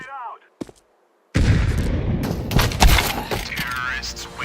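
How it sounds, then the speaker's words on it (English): A grenade exploding in Counter-Strike 2, a sudden loud booming blast after a short quiet gap, followed by rumbling debris and gunfire-like cracks, with a voice calling out before it. "Grenade out!"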